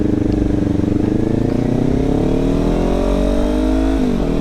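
A motorcycle on a ride home, its engine droning steadily and rising in pitch as it accelerates, heard close with constant wind and road rumble and no talking.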